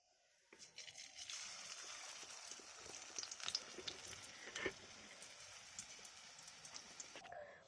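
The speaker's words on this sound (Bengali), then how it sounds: "আরও যেটা আছে অল্প অল্প করে ভেজে নিচ্ছি।" Thankuni pennywort-leaf pakoras sizzle in hot oil with a steady, soft crackling hiss, dotted with faint pops and light clinks, heard quietly up close.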